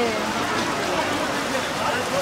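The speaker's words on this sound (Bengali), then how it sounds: "কি বৃষ্টি হচ্ছে।" Steady rain pours down outside a shop near a temple in Naihati, a dense, even hiss that stays constant and fairly close for the whole moment.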